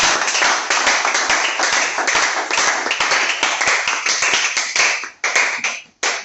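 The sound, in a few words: congregation applauding loudly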